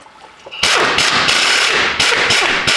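A pneumatic impact gun hammers loudly at bolts holding a transmission to a 12-valve Cummins engine in a Ford Dentside pickup, a close, continuous rattling burst after a brief quiet start, with slight dips in between.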